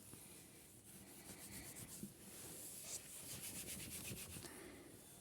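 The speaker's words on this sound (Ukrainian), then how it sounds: "зараз будемо влажною салфеткою все витирати" A wet wipe rubs across a work desk in quick back-and-forth strokes, a soft scratchy swishing that is fairly faint, with a few light knocks and no voices.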